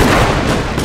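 Musket volley fire from massed troops in Total War: Shogun 2, a dense, loud continuous crackle of overlapping shots with no clear gaps between them.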